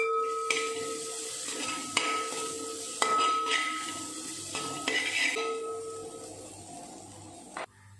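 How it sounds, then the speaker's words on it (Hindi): A coconut mixture fries in a pan and is stirred, giving a soft hiss under repeated metallic clinks and scrapes of a spoon against the pan, several sharp ringing taps spaced about a second apart, close by, with no speech. "अभी हम इसमें डालेंगे नारियल का मिक्सचर जो हमने बना के रखा था। इसे भी थोड़ी देर फ्राई करना है।"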